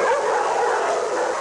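Several dogs at an animal shelter bark and whine together in a continuous, dense chorus, loud and close, with no talking.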